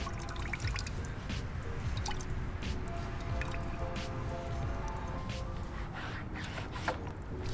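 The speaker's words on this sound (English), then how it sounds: "I usually like to go with a slow drip like this" Slow, steady water drip running in a van's small sink while dishes are washed, a continuous close trickle with soft squishy splashes and no voices.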